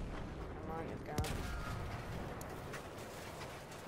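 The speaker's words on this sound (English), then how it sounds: "So many explosions." Battlefield 1 match with continuous battlefield din of explosions and gunfire, one sharper blast near the middle over a steady roar, with voices in the background.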